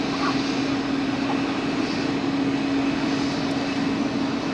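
An airliner bound for Toronto accelerates down the runway on takeoff at Zurich Airport, a steady, broad engine roar with a constant whine, heard from some distance and unbroken throughout.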